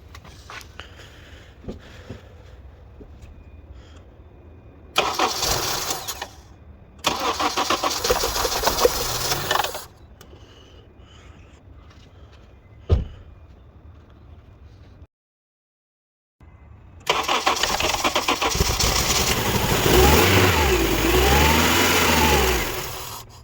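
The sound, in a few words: car engine starting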